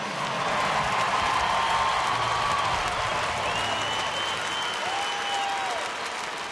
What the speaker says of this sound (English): Much of the crowd on their feet for Josh